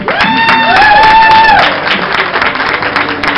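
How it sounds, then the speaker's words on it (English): A crowd breaks into loud, sustained applause and cheering, with a sung or whooping voice rising over the clapping early on before the clapping carries on alone. "Give a round of applause"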